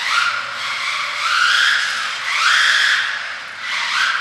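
Small RC car tires whir and scrub across an indoor carpet track as the car loops past, swelling and fading in repeated close passes with rising and falling pitch.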